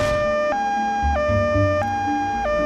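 An ambulance siren wails loudly and close, alternating between two pitches in a steady repeating cycle, with low engine rumble underneath and no talking.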